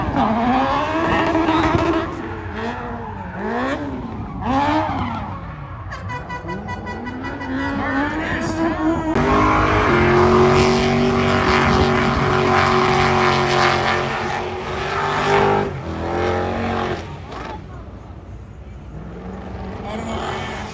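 A drift car's engine revs loudly and repeatedly at a car show event with burnouts, rising and falling in pitch as it swings past, with people talking in the crowd nearby.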